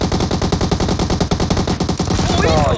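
Rapid automatic gunfire from the PUBG Mobile video game rattles in a fast, even burst of closely spaced loud shots that lasts nearly three seconds.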